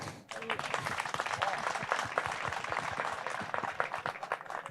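Audience at the Jashn-e-Rekhta Urdu festival applauding: a dense, sustained wash of many hands clapping, close and steady throughout with a few louder peaks.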